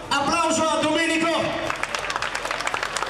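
A crowd applauds a runner named Domenico at the start of a marathon in the Pollino mountains, with scattered hand clapping rising after a brief spoken announcement, nearby and moderately loud.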